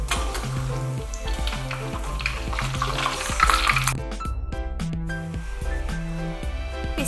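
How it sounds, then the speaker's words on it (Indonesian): Banana fritters coated in crumbly sandy batter fry in hot oil until golden brown, a steady bubbling sizzle beneath prominent background music, with no talk. "Goreng hingga kuning kecoklatan"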